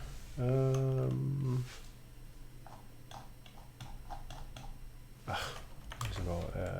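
A burst of keystrokes on a computer keyboard, quick light clicks at close range, sits between stretches of a person talking.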